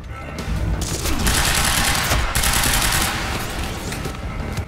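Gunfire in the video game Quantum Break: loud, rapid volleys of shots, dense, overlapping and sustained, punctuated by sharper bursts and a heavy boom.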